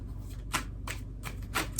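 Tarot cards shuffled by hand, four quick riffling bursts in an uneven rhythm, close and crisp over a low steady background hum.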